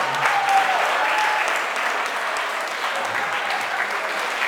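Audience at a wedding reception applauding, a dense wash of clapping that holds steady for several seconds, fairly close and moderately loud.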